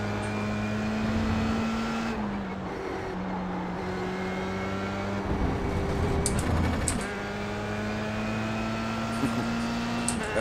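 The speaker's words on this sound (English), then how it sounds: "That limiter sounds like a machine gun." An F3 race car in iRacing at Sebring drones steadily at high revs, its engine note stuttering and dipping as it bounces off the rev limiter, before holding high and steady again, with no voices.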